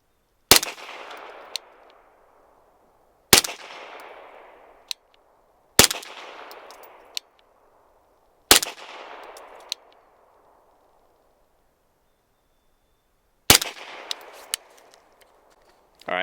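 Five suppressed gunshots from a Flux Defense Raider fired as a group: sharp, loud cracks spaced a few seconds apart, each trailing into a short decaying echo, with quiet gaps between.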